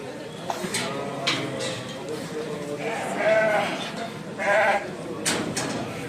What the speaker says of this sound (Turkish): Bunlar da etli koyun.